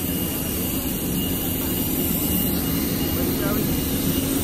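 A large airplane's engines drone steadily nearby while passengers walk up the boarding stairs, a constant loud roar with a high whine, and people talk over it.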